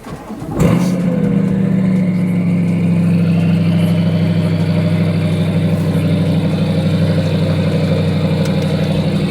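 A twin-turbo Chevrolet C8 Corvette tuned in Vengeance Racing style fires up and drives off, a loud, close, deep engine drone holding steady after the start, with no voices.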